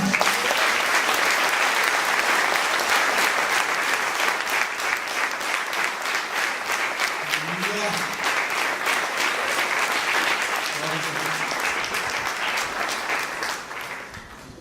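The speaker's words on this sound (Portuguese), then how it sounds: "Você pode aplaudir ao Senhor?" A church congregation applauds during a sermon, sustained loud clapping from many hands that holds steady before thinning and fading near the end.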